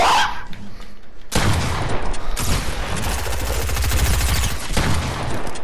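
Gunfire rings out in Fortnite as shotgun blasts and rapid bursts of shots pile up into a dense, continuous fusillade lasting several seconds, loud and close, after a short quieter lead-in.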